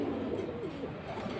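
Military-breed pigeons coo softly and continuously in a low, murmuring drone, several birds at once close by, with no talk over them.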